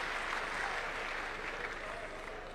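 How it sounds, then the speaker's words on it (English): Sustained audience applause at a live public event in Kenya, a steady dense clatter of many hands clapping throughout, fairly loud and even with no break. "A round of applause for Powerman."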